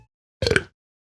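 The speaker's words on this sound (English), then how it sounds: "there is also an extra final sound used for the burping at the end" A single short, throaty burp from Minecraft, close and clear, followed by silence.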